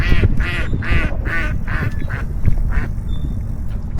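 Several ducks quack in a steady run of rhythmic calls, fairly close, over a low background rumble, with pigeons and geese nearby.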